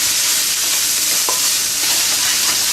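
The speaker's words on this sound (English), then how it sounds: "We're going to cook a large finely chopped onion in this oil." Finely chopped onion sizzles steadily in oil in a pan holding browned bits left from pork, with a few soft stirring scrapes breaking through the constant close frying hiss.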